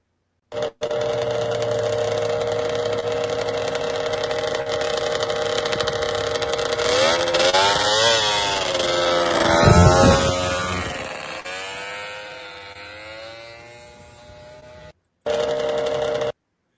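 A vintage racing snowmobile engine runs steadily and then revs through rising and falling sweeps to a loud peak before settling, followed by a short burst again after a brief gap.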